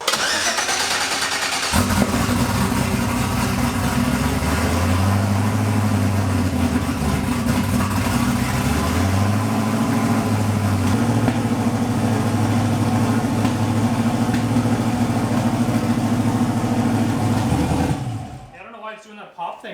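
A track car's engine cranks over and catches, then settles into a loud, steady idle with a rough, low throb and occasional small revs, running close for over fifteen seconds before cutting off abruptly.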